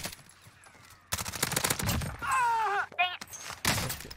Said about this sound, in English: I just got shot by another kid